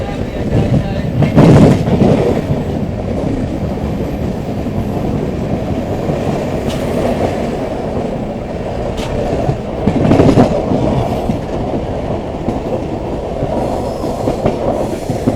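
A passenger train on a single line running into Thrissur station, heard from onboard as a loud continuous rumble with rhythmic clickety-clack of wheels over rail joints and brief squeals.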